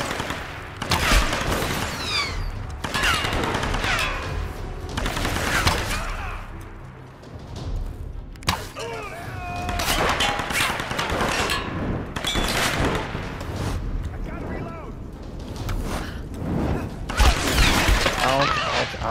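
Gunfire and headshots in Tomb Raider Definitive Edition, sharp shots and shattering impacts in bursts through a busy, loud battle mix, with a voice talking over parts of it.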